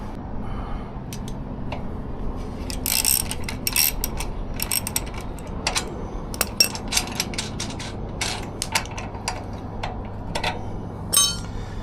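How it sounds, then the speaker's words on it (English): Ratchet wrench clicking rapidly in irregular bursts while removing a nut and bolt on a Mini Goat ebike, close and metallic, with occasional clinks of parts between runs of clicks. "now I'm just going to remove this nut, and I'll remove this bolt here"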